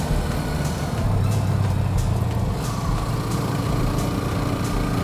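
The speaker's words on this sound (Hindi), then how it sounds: "बार बार गियर चेंज करना पड़ रहा है मुझे" A Hero Xtreme 125R motorcycle engine drones steadily while climbing a winding foggy hill road, its pitch shifting slightly as gears change, loud and close with wind noise and no talking.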